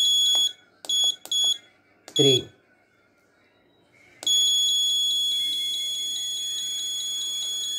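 An Arduino medicine reminder alarm with a DS3231 real-time clock beeps in short repeated bursts, then a loud, continuous pulsing buzzer tone follows, with a brief voice between them.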